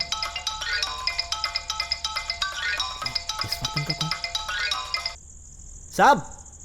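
A phone ringtone in a Hindi-dubbed horror thriller film plays a repeating melodic pattern, loud and close, before a person speaks briefly at the end.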